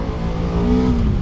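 A BMW F 450 GS motorcycle engine accelerating, a steady close, loud buzzing drone with a rising pitch that climbs briefly as it revs up, with no talking.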